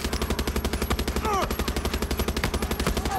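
Rapid automatic gunfire in the shooter game Far Cry 6 rattles in a steady, fast rhythm throughout, loud and close, with a brief voice cutting in once.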